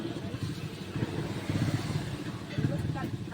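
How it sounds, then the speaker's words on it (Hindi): A Wagon R car engine, running on a company-fitted CNG kit after a wiring fault, starts and idles with a rough, clattering mid-range rumble close by, while people talk over it. "ये देखो हमारी गाड़ी स्टार्ट हो गई है।"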